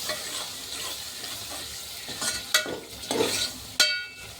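Steady sizzling of long-cut tomatoes frying in a pan, broken by a few sharp scraping and clinking stirs toward the end.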